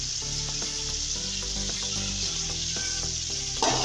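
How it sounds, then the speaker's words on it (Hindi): Onions going into a hot pot for Chinese pulao with boiled chicken, giving a loud, steady sizzle of frying under a music track, with a sharper hiss near the end. "इसके अंदर प्याज डाल रही हूँ।"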